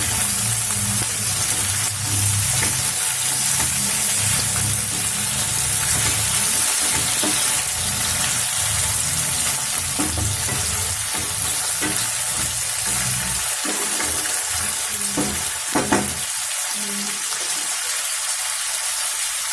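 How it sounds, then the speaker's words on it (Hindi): Chicken pieces frying with masala in a pan for Malabar chicken curry, a loud continuous hiss and sizzle with occasional clinks of a utensil. "अभी चिकन के पीसेस को ये मसाले के साथ अच्छे से फ्राई कर लेना है।"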